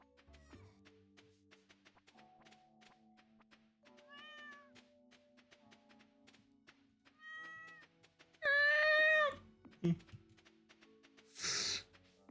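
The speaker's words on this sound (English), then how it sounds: "Cat." Short synthesized cat meows chirp out of a farming video game amid soft plinking music and thunks, with a louder drawn-out meow near the end and a bright burst just after.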